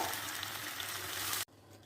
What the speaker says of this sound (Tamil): நம்ம இந்த பூண்டை போட்டு நல்லா வதக்கிடலாம்.